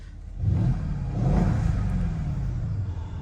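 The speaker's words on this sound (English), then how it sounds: "I love the turbo flutter" A Mercedes E55 engine revs up and holds with a deep, steady rumble, its pitch rising and falling, as turbo flutter whooshes over the top, close and loud with no talking.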